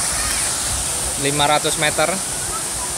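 Steady rushing roar of a waterfall fills the scene, with someone speaking briefly over the constant water noise.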